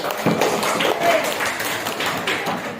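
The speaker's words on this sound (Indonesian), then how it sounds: "Kita beri tepuk tangan untuk Raffi." A classroom of students gives a short burst of scattered clapping for a classmate named Raffi, uneven and fairly light, mixed with children's voices.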